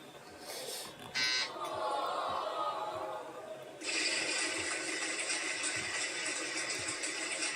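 Game show buzzers on a live local TV broadcast: a short harsh burst near the start, then a long loud electronic buzz that begins partway through and holds to the end, with no talk.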